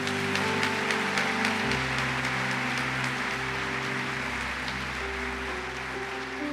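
A church congregation applauds during a Catholic priest's service, a dense continuous patter of many hands clapping over sustained organ or keyboard tones, steady and fairly loud with no speech.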